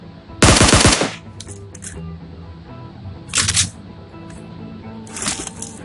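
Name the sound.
gunfire in the video game PUBG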